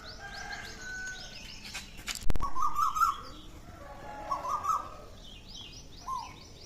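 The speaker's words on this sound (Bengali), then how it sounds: "কোকিল ডাকছে, এই যে কোকিলটা।" An Asian koel calls in the dark early-morning hour, two clear rising whistled phrases repeated a moment apart, moderately near, with a brief bump and faint background noise and no talk.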